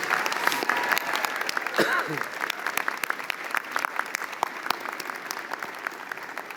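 A large convocation crowd applauds steadily, dense clapping filling the space with no pause throughout.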